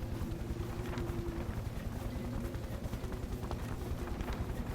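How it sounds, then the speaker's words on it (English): A steady low engine rumble from the adventure game The Book of Unwritten Tales: Critter Chronicles drones on continuously with a faint wind-like hiss above it, no voices present. "You hear that engine?"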